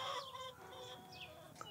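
A backyard flock of hens clucks softly in the distance, scattered short calls over a faint outdoor background in a home orchard.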